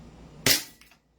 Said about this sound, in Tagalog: Let's fire. Firing.